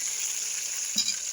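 Liver pieces stir-fried in a pan, a steady close frying hiss throughout with a brief soft scrape of stirring near the end.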